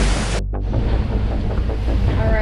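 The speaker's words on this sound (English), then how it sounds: "We just went over a monster wave." Heavy seas and strong wind roar around a sailboat crossing the Gulf Stream in rough weather, a dense, loud, continuous wash of surf and wind noise with a brief dip early on.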